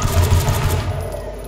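Gunfire in the video game Sleeping Dogs sounds as a quick rattling burst of shots inside a police station, loud and close, then trails off into a brief fading echo.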